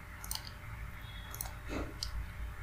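Sharp computer mouse clicks tap out at close range, a few scattered single clicks over a low steady hum with no talking.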